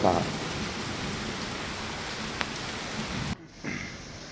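Morning rain falls as a steady, dense hiss of drops on surfaces, then cuts off abruptly near the end before a softer patter resumes.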